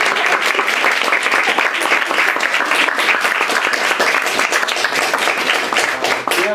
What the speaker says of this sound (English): Let's give the poets another round of applause.